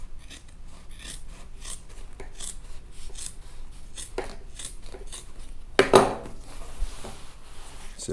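Scissors trim old vinyl top material on a box Chevy Caprice, giving a run of short, close snips and rasping cuts with one louder crunch partway through.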